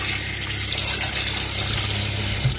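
Cockles rinsed under running water, a steady close gush like a tap filling a sink, continuous and fairly loud with no voices.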